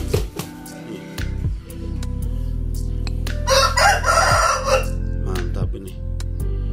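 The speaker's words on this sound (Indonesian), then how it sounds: "Kita coba dengarkan kokoknya nanti ya." A Japanese Shamo rooster crows once, loud and close, a drawn-out call near the middle, set among clucks and a steady low background hum.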